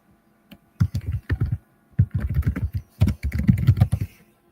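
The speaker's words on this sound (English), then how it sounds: "Morgan, I'm going to mute you while you're typing, dog." Someone types on a computer keyboard in bursts of quick clacking keystrokes, close and clear, separated by short pauses.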